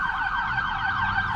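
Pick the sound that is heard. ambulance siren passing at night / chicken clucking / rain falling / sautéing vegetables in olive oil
ambulance siren passing at night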